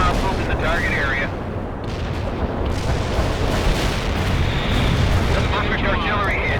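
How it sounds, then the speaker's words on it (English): Artillery shells exploding in the real-time strategy game World in Conflict, a dense, continuous rumble of booms and blasts that fills the whole stretch, with faint radio-like tones threading through the barrage. "A perfect artillery hit."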